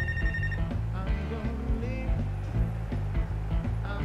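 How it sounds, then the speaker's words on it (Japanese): A phone rings in Life is Strange: True Colors, a short bright chime at the start set against steady game music, with someone talking over it. "あ、電話かかってきた。"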